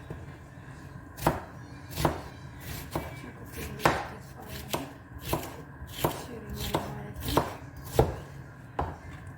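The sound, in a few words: chopping vegetables with a knife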